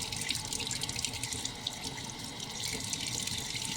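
Water runs steadily from a kitchen tap into a sink while dishes are washed up, a continuous close hiss and splash with no voices.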